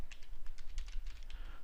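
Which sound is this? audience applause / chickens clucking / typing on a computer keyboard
typing on a computer keyboard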